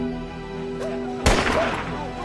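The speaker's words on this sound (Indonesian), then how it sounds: "terdengar suara tembakan yang berasal dari Yongbei" A single sharp gunshot in a Korean war film cracks out loud and close, cutting through a quiet tonal hum, then decays into a short rumbling tail.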